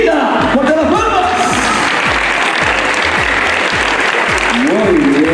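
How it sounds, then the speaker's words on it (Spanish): Audience clapping at a regional beauty pageant festival, a broad roar of applause with a steady rhythmic beat and a voice talking over it. "¡fuerte las palmas!"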